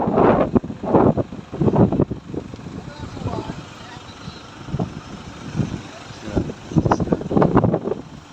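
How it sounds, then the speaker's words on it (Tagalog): Strong, cold mountain wind buffeting the microphone in heavy rumbling gusts, with a person talking intermittently over the roar. "sobrang lakas ng hangin. Ang lamig ng hangin."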